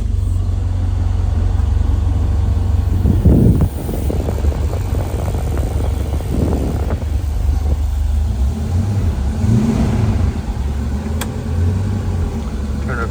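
A 1966 Ford Mustang Fastback engine cranks and catches, then settles into a steady, loud low rumble at idle with a few revving swells, no voices over it.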